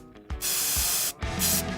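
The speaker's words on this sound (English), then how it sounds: "he grabbed a spray paint to kickstart the next phase of the restoration" Spray paint hissing onto a motorcycle fuel tank during restoration of a classic 1980s Honda cafe racer, in two loud, steady bursts split by a short pause, close to the can and with no voices.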